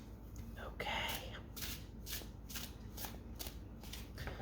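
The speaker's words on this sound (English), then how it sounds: "we'll shuffle it up and ask these questions" A deck of tarot cards is shuffled up close, with repeated crisp riffling bursts at a steady rhythm over a quiet background.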